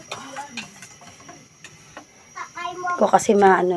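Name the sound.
stirring coating syrup in a pot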